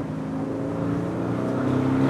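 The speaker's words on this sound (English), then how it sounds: "we'll stick it into sport from GT mode. Then you're getting so much more of the exhaust note coming through" An Aston Martin DB11 Volante V8 in sport mode gives a steady, droning exhaust note while cruising, a continuous deep hum with no talking over it.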